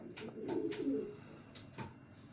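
A pigeon in a loft gives a low, soft coo near the start, with a few faint taps and rustles around it and another short coo toward the end; no talking.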